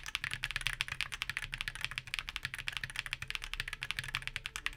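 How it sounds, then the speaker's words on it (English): Someone types quickly on a keyboard with Everglide Hall effect switches, giving a fast, fairly soft, rounded clatter of keystrokes that runs steadily without talk. "It's the closest thing that I found to a creamy mechanical switch sound in the Hall effect space."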